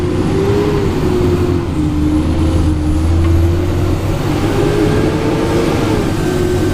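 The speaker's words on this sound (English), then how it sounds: "The truck sounds excellent too." A 2001 International dump truck drives along with its engine producing a loud, steady, low drone heard from inside the cab, along with continuous road rumble.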